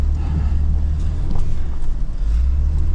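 A 2024 Toyota Tundra crawls in four-wheel drive over a rocky mountain trail, its engine a steady low rumble close by with faint knocks and scrapes over the rocks, no talking.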